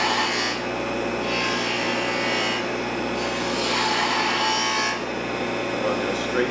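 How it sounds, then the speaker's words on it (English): A woodturning lathe makes a straight cut on a wooden goblet, giving a continuous scraping, rasping hiss over a low motor drone with a few brief pauses in the cutting, close up. "There's only 3 cuts you can make on a lathe. That's a straight cut, which is what I'm doing now."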